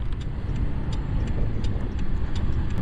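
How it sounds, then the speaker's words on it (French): The turn signal of a KYMCO DTX 360 125 scooter ticks in a quick, even rhythm, with roughly a dozen small clicks over a low steady background hum. "c'est ce bruit de clignotant là"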